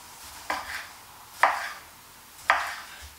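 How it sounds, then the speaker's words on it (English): A knife slices a tomato for a cheeseburger in three separate, crisp cuts about a second apart, close up with no talking. "so cut you some nice tomato"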